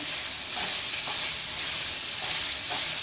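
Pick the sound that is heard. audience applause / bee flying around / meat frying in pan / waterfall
meat frying in pan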